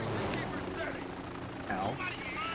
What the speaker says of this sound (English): There's helicopters in this game!